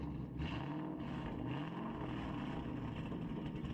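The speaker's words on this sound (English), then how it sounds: "You hear the whine when you're driving." Ford 5.0 engine droning with a steady, loud whine as the car drives, continuous and close with no pauses.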